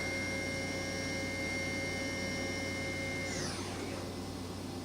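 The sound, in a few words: Kitamura CNC horizontal machining center spindle running at 9,000 RPM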